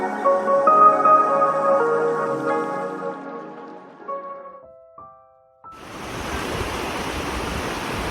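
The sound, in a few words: small river flowing in a mountain valley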